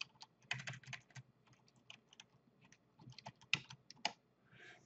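Rapid, close keystrokes on a computer keyboard while renaming a group in SketchUp, uneven bursts of clicks with short pauses, no talking.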